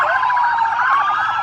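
A BCEHS ambulance siren wails nearby during the Vernon Carnival parade, its rising and falling tone sweeping steadily and loudly through the whole moment with no talking over it.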